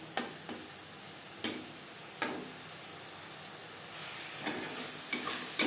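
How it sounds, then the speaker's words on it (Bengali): Ghatkol leaf and stem paste stirred in a wok over high flame: faint steady frying hiss with a few sharp spatula scrapes and clicks spaced irregularly, no voices. "পাতা ও ডাটা বাটা বেশ ভালো করে মিক্সড করে দেবো নাড়াচাড়া করে ড্রাই করে নেব প্রথম প্রথম পাঁচ মিনিট রান্না করব হাই ফ্লেমে"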